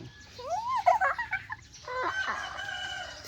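A rooster crows near a front-yard flower garden in the early morning, two clear, loud crowing calls in quick succession with a short gap between them, and no talk over them.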